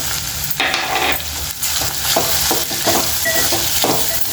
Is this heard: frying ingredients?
yes